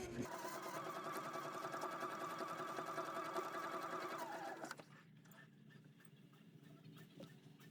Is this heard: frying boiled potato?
no